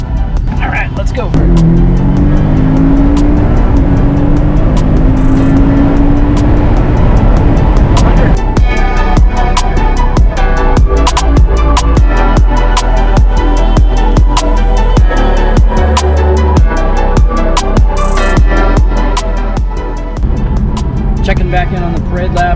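Porsche Cayman S on a parade lap at Circuit of the Americas, its engine droning steadily and loudly throughout with a rising note early on, interior rumble and intermittent clicks, people talking over it.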